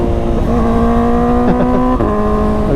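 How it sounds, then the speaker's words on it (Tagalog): Kawasaki motorcycle engine on a ride near Tanay, Rizal, holding a loud steady drone with wind noise, then briefly dropping and rising in pitch as it shifts down a gear. "Nag-downshift no"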